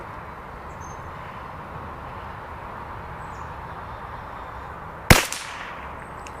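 A Savage MKII FV rifle fires one Lapua Super Long Range round, a single sharp, close crack with a short decaying tail after a few seconds of quiet outdoor ambience.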